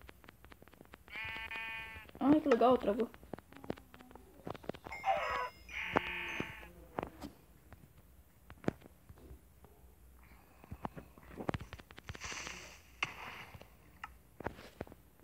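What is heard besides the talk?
sheep bleating in Minecraft video game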